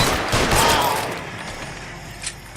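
Gunfire in the video game L.A. Noire, a burst of loud shots at the start that fades into a softer tail, with a faint later crack.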